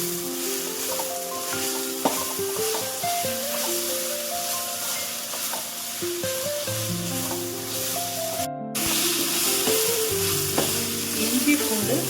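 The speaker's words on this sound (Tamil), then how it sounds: "இஞ்சி பூண்டு பச்சை வாசம் போகிற அளவுக்கு வதக்கிக்கணும்." Ginger garlic paste sautés in a hot pan while ghee rice is being made, a steady loud sizzle with stirring scrapes throughout and a brief cut near the end; no speech.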